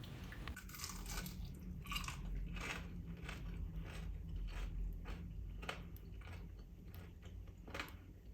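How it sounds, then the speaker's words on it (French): Crisp crunching bites into crispy potato rösti repeat at a steady pace, close and fairly loud, with sharp crackly bursts over a faint background hum and no talking. "Et maintenant, écoutez ce croustillant."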